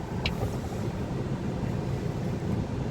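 Steady road traffic hums around a car, a continuous dense wash of engine and tyre noise with one brief higher tone near the start.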